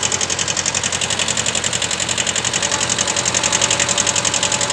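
A small tractor engine runs in low gear, giving a loud, close, steady chugging with a fast, even pulse and a mechanical rattle, with no voices.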